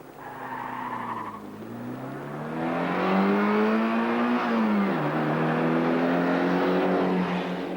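Saab 99 Turbo and BMW 528 racing from a standstill over a quarter mile: a steady engine roar climbs through the gears, with a brief shift dip, rising to a loud, sustained drone at close range.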